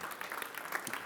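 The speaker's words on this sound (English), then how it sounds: "Round of applause." Brief burst of audience applause at a EuroShop 2020 trade-fair presentation, dense clapping spread evenly throughout with no pauses.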